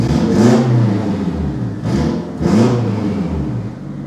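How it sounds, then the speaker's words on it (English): Turbocharged 8th-generation Honda Civic engine heard from inside the cabin, a loud, steady drone with repeated swells as the revs rise and fall, no talking. "The sound you guys are hearing right now is from inside of the car. That is how loud this thing is."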